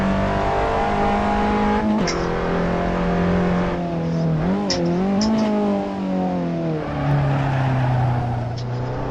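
A race car in the driving game Assetto Corsa on a fast hot lap, its engine droning loudly and steadily near at high revs, dipping and rising in pitch through gear changes and braking, with no talk.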